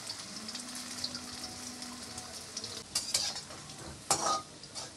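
Red amaranth leaf fritters fry in oil over a medium flame, a steady close sizzle with stirring and a few sharp metallic clinks and scrapes of a utensil toward the end, with no talking.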